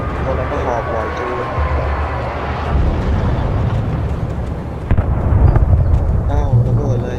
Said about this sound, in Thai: อ้าวระเบิดเลย